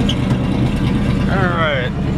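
A power rear window on a 1972 AMC Ambassador wagon runs briefly, a short rising whine of the motor lasting about half a second over a low idling engine hum.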